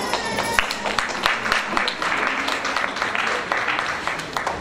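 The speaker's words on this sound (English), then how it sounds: "Everyone please give a big round of applause to all these finalists." An audience at a school event claps continuously for contest finalists, dense even applause filling the room, close and steady throughout.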